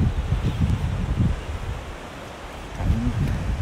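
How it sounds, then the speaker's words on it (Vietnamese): Strong wind gusts across the Northern California coast at Ocean Cove, buffeting the microphone in low rumbling bursts with rustling in between, close and moderately loud, no speech. "Gió quá chừng."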